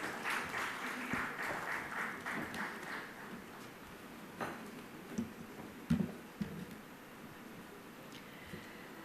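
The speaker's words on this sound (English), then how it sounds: "please give it a big round of applause." Audience applause at the IAA Leadership Awards 2024 ceremony, moderate and somewhat distant, rising then thinning into scattered claps and thumps over room noise.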